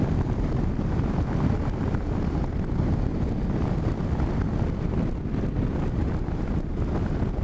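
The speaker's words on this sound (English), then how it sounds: "I do feel a buffet now at the top of the helmet" Heavy wind buffets a rider's helmet aboard a 2019 Indian Chieftain Dark Horse motorcycle, a loud, constant roar with no letup.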